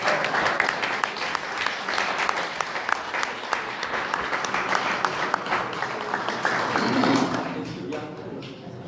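Audience applause at an evening town meeting honoring a mayor, dense continuous clapping with sharp individual claps, voices mixed in, tapering off near the end as talk begins.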